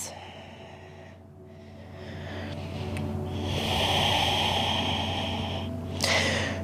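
Slow, audible breaths drawn through the nose during a yoga pose, a long exhale swelling in the middle and a sharper inhale near the end, close and fairly quiet with no talking.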